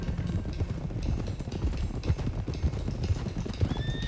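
Steady clip-clop of horse hooves trotting at a brisk, even rhythm in Red Dead Redemption 2, close and continuous, with a faint tonal hum in the background.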